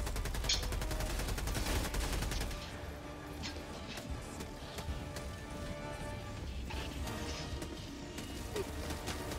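Gunfire in the video game Helldivers 2: a dense, rapid burst of automatic shots up front, then scattered loud shots and crashes continuing over a busy battle backdrop.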